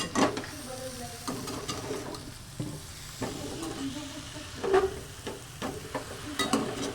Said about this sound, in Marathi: सारखे हलवून घ्यायचे, कारण स्टीलची कढई असल्यामुळे चटकतंय.